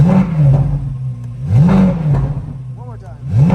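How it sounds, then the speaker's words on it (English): A 2023 Corvette Z06 3LZ convertible is revved while parked, three quick throttle blips rising and falling over a burbling idle, loud and close, with a brief high chirp between the second and third revs. "we'll give it a few revs"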